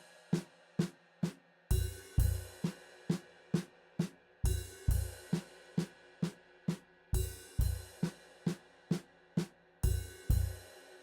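Drum kit playing a slow six stroke roll with a kick under each cymbal accent: steady crisp snare and tom strokes punctuated by loud crashing cymbal-and-kick hits at regular intervals, close and without talking.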